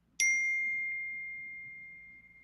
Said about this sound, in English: That chime seemed like it perfectly punctuated your point